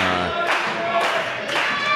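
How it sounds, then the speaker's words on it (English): Wrestling arena crowd during a match between "All Ego" Ethan Page and "All Confidence" Shane Sabre, a dense roar of cheering and clapping that swells in waves, loud and continuous without clear speech. "And the crowd goes wild."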